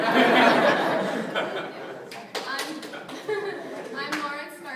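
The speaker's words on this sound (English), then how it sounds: "Can I go get the applause?" A group applauds during staff introductions at a TeenPact state class, with scattered chuckles and laughter. The clapping is strongest at the start and thins out into murmuring voices.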